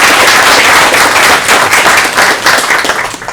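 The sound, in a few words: applause for graduating seniors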